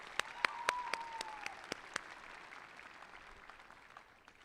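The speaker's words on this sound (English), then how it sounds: "Let's give them another round of applause." Graduation audience at a charter school ceremony clapping, a few sharp close claps and a thin spread of applause fading out over a few seconds, with a brief tonal squeal early on.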